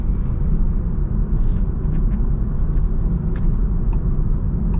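A 2025 Volkswagen Jetta accelerates from a stop and drives on, its engine and road noise forming a steady, close rumble from inside the car, with brief tyre slip and light rattles.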